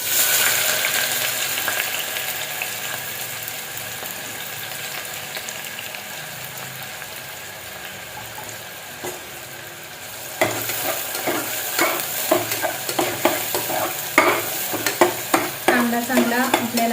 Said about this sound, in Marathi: कांदा चांगला आपल्याला लालसर परतून घ्यायचा आहे